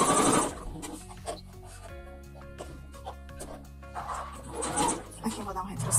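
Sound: sewing machine stitching a scarf, backstitching

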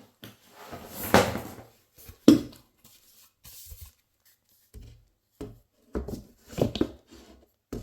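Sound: inserting wardrobe side panel

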